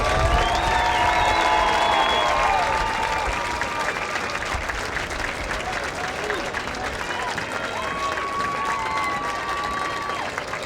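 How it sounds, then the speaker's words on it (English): Stadium crowd applauding senior football players at a high school game against Baldwin, sustained clapping and cheering with whistle-like tones, while an announcer talks over the crowd. "Let's have a nice round of applause for our senior football players."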